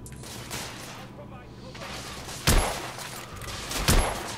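Gunfire in the video game The Order: 1886 crackles as a dense fusillade, with two sharp louder reports standing out over a continuous rattle of shots.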